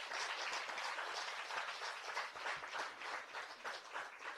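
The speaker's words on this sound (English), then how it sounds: "I want you all to give him another round of applause." Audience applause at a stakeholder engagement meeting in Omaheke, a steady, dense round of clapping from many hands held at an even level throughout, no voices over it.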